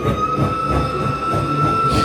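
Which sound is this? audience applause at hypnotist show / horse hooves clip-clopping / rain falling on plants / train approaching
train approaching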